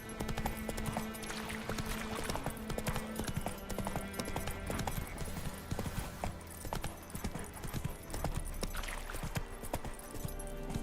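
Roach, the horse in The Witcher 3, gallops with a fast, continuous drumming of hooves, quiet game sound with clip-clop beats running steadily throughout and no one speaking.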